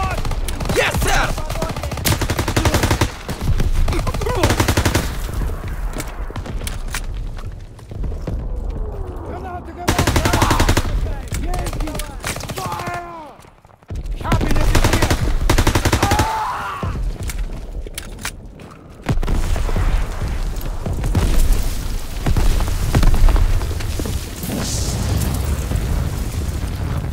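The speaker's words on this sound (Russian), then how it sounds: "Артиллерия стреляет по берегу!" Call of Duty WWII battle on a beach under artillery fire: dense, continuous machine-gun bursts, rifle shots and booming explosions, loud and chaotic throughout, with brief lulls and shouted voices mixed in.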